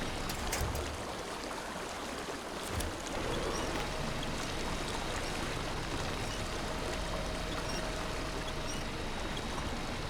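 Strong rushing water current in SnowRunner around a 2017 Chevrolet Colorado ZR2 in a ravine, a steady, broad churning wash with a low engine rumble beneath.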